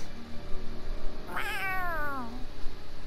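Cat meowing in the video game Tales of Arise: a single drawn-out, wavering meow that rises and then falls, heard clearly over a steady game ambience.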